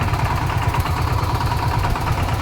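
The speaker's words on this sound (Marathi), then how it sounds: "ट्रॅक्टर आहे ते लाईव्ह मध्ये" A tractor engine runs steadily in a sugarcane field, a continuous low idling rumble with a regular throb, close by and heard alone for the whole stretch.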